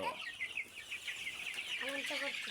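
A flock of Egyptian Fayoumi chickens on a small poultry farm cluck and chirp repeatedly, near and moderately loud, over a soft steady background.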